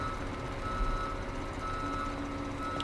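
A truck in Farming Simulator 17 backing into a parking spot, its reversing alarm beeping steadily over a constant low engine drone.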